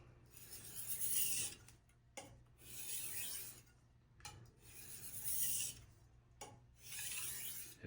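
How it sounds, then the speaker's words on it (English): A knife blade being stropped back and forth on a stone, heard as four quiet rasping strokes with brief pauses between them, with no talking. "we do a little stropping back and forth"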